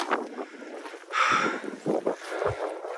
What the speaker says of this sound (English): It's just unbelievable how windy it is.